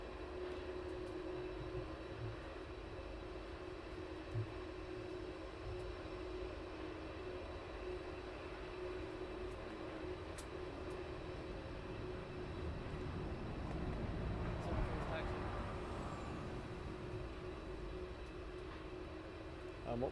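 Jet aircraft at East Midlands Airport at night, a distant steady engine hum and whine with a faint swell midway, low and far off under quiet ambient noise.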